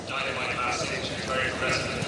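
Hooves clip-clop from Petit Mouchoir, a racehorse on the turf at Leopardstown before a Group 1 hurdle, a steady scuffing patter blended with crowd noise and a commentator's ongoing talk.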